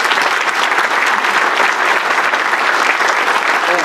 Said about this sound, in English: So I guess I'd like to see them get a round of applause too